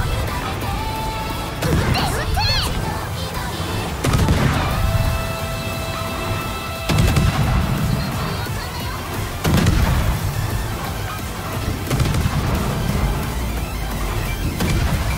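Battleship Ohio firing its main guns in World of Warships during a clan battle, heavy booming salvos landing at intervals of a few seconds under a dense roar of other game sounds and team voice chat.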